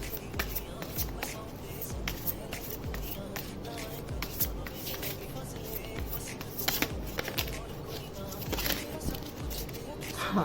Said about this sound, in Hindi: मैं फिर से शफल कर रही हूँ।